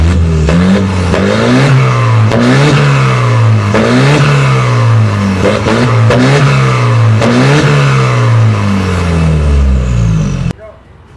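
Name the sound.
custom turbocharged car engine revving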